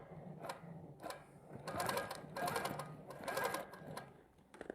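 An embroidery sewing machine stitches out a mandala design in rapid bursts of mechanical chatter, with brief pauses between runs, recorded close and fairly quiet.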